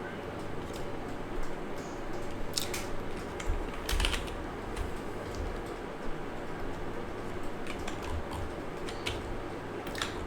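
Steady typing on a computer keyboard, with quick irregular clicks and occasional bursts of keystrokes over a constant background hiss, fairly faint and close.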